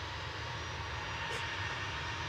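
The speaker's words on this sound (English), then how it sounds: "There goes the Alphabet plane." An airplane taking off at Manchester Airport, a steady loud broadband roar of jet engines filling the whole moment, constant and unbroken with no talk over it.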